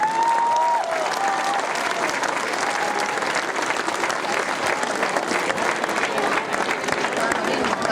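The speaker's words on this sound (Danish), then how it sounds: "Er publikum, I kan godt lige give dem en ekstra hånd." A crowd applauds a winning boys' eight-a-side football team at a youth cup tournament, with loud, dense, continuous clapping and cheering lasting throughout, mixed with crowd babble.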